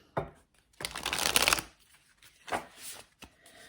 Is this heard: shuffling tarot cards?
yes